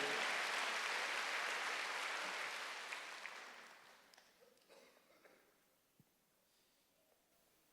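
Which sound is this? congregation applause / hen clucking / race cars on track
congregation applause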